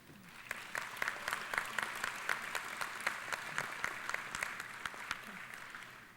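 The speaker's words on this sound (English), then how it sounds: "Please give a round of applause to each of the legislators for participating in today's event." Applause for legislators at a student legislative forum; a small audience claps in a quiet room, individual claps distinct and fairly even, faint and without talk.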